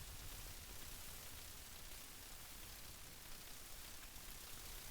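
Steady rain pours during a storm in a horror video game, a dense even hiss that stays constant and fairly loud throughout with no voices.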